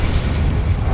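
A Confringo blasting spell going off in the Hogwarts Legacy video game, a loud, dense, rumbling burst that fills the whole second with sustained booming energy.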